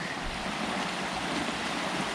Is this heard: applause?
no